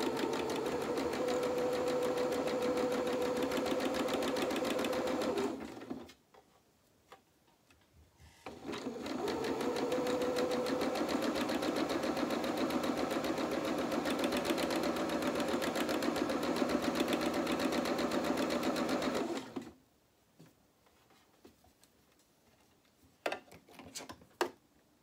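A sewing machine runs in steady bursts while stitching fabric for a pair of French knickers, with a loud continuous whir for about five seconds, a brief pause, then a longer run before it stops and a few light clicks follow.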